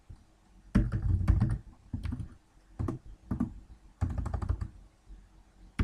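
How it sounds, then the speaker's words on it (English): Someone types on a computer keyboard in quick bursts of clicking keystrokes separated by short pauses, close and clear with no talking. "So now we're going to type permissions."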